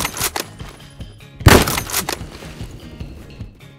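Gunfire in the Roblox shooter Phantom Forces, with sharp cracks scattered across the clip and one loud, heavy shot in the middle among quieter bursts, close and punchy.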